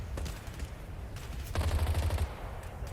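Vietnam War combat gunfire sounds out as a muffled, fairly distant fusillade, with scattered shots and then a rapid rattling burst over a low rumbling background, with no voices.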